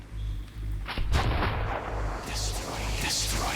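Heavy gunshots ring out in the Metro 2033 Redux video game, a couple of deep booming reports near the middle over a low rumbling background, with no one speaking.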